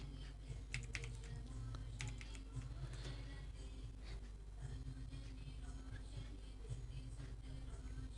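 Keys clatter steadily on a computer keyboard while someone types a database query in SQL Server Management Studio, with light irregular clicks over a low background hum and no speech.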